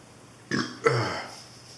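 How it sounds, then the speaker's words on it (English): Two short, throaty burps in quick succession after eating a 7 Pot SR hot pepper, close and moderately loud, the second longer and deeper. "It's making me burp a lot, and each burp hurts."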